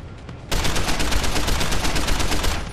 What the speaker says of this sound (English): blind firing will not help in this situation